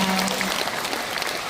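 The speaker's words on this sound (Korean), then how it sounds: "여러분 박수 부탁드립니다" Steady, even applause from an audience filling a concert hall during a talk show, a short wash of clapping with no voices.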